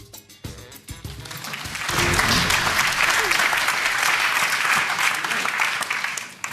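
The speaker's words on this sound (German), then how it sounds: "Wunder, dass geklatscht wird" Studio audience applause on a German TV quiz show, starting with a few claps and swelling into loud, full, continuous clapping that holds to the end, with a voice faintly underneath.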